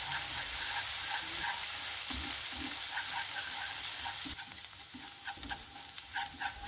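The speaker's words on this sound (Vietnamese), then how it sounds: "mình phi cho tỏi nó thơm lên vậy nè, thì mình sẽ cho thêm cái ớt băm vào mình phi chung." Minced garlic and chili frying in oil in a pan, a steady close sizzle with scattered crackles and stirring scrapes throughout.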